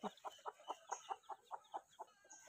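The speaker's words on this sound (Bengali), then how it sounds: "আমার মুরগির বাচ্চারা কি খবর?" Young chickens cluck quietly in a quick, even series of about ten short calls, close by, with no talk.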